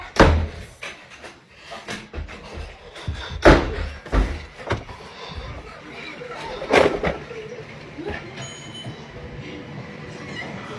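A door is pushed and slammed several times, sharp bangs and thumps among rattling and scuffling, with muffled voices in the background.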